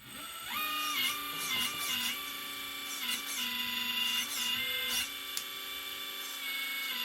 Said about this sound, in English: Let me turn on the pump and get the controller in one hand.